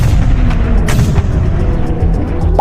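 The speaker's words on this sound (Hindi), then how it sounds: "चारों तरफ धमाके हो रहे थे" Explosions rage during the 1945 Battle of Berlin, a dense, loud wall of deep rumbling booms and artillery thuds rolling on without pause.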